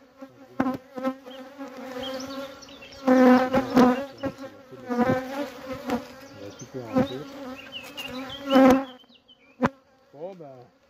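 Honeybees buzz steadily and loudly around an open hive during a springtime inspection of the super and drone frames, a dense close swarm drone that swells and fades, with faint scraping bursts and no talk.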